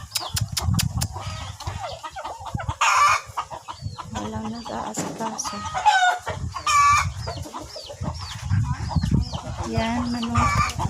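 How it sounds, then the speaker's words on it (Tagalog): Chickens cluck steadily on a family farm, with a rooster crowing among them and sharp clucks close by, while people talk over the birds. "Yan, manok."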